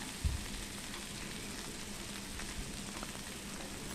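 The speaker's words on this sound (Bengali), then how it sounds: "লবণটা দিয়ে আরও খানিকক্ষণ কষিয়ে নিচ্ছি" Mushroom masala with salt added sizzles steadily in a pan, a soft continuous frying hiss with a faint clatter of stirring near the start, close but quiet.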